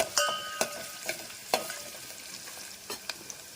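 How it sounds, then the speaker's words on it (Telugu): Onions with curry leaves frying in oil in a pan for dal, with a soft steady sizzle broken by several sharp stirring clacks and scrapes, close and alone without talk. "మనకి బ్రౌన్ కలర్ వచ్చేంత వరకు మనం ఆనియన్స్ వేగిపోతే కరివేపాకు వేసేస్తున్నాను నేను"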